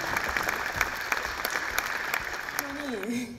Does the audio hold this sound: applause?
yes